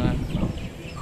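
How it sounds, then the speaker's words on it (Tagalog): Fighting roosters kept on the fifth floor of an abandoned hotel in Tacloban City, heard as brief, fairly faint clucking under a murmur of nearby talk. "So dito po sa 5th floor ay meron pong mga chicken. Okay, mga manok na pansabong."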